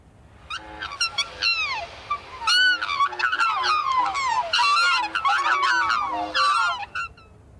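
Black swans in the Outback setting of the video game Call of the Golden Valley give musical bugling calls: a rapid series of loud, clear, honking whoops repeated in close succession, heard alone.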